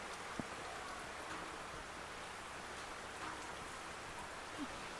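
Soft, steady rain hisses quietly and evenly, with an occasional faint drip standing out; distant and calm, no voices.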